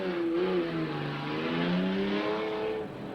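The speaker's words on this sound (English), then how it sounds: "He's revving it now, but it sounds okay at the moment." A race car engine revs steadily and loudly at close range, its pitch rising and falling over a few seconds, with no talk, at a raceway event.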